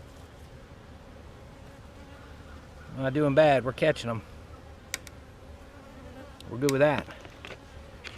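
A honeybee buzzes loudly near the microphone by a hive with a beetle jail trap, coming in two close bursts that drone and whine amid quieter hive hum, with a person talking briefly between them.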